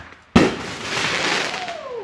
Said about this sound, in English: Firework gone wrong.